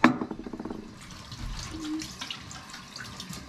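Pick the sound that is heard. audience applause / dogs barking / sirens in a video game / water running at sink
water running at sink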